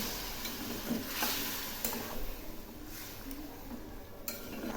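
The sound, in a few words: stirring chana ghugni masala after adding water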